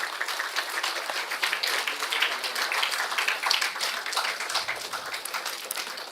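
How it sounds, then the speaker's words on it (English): A large audience at a college student induction valedictory function applauds steadily, a dense wash of many hands clapping at an even level throughout. "Give a big round of applause."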